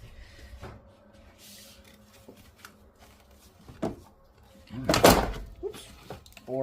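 A car battery is set down into the engine bay of a Hyundai Santa Fe with a 3.3L engine: a solid, heavy thud with a rattling clatter, loud and near, after quieter shuffling and scraping knocks.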